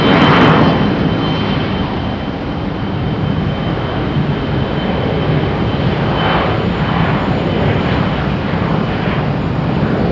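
An Embraer E-175 jet airliner passes near Raleigh-Durham International Airport with a loud, steady roar of jet engines that holds throughout.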